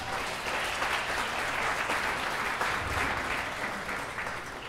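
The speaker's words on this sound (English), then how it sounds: "please give Rodney a big round of applause" Wedding guests at Park Pavilion in Seaside Park applaud after a speech, a steady dense round of clapping filling the room and holding level from start to finish with no voices over it.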